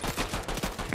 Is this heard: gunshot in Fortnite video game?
yes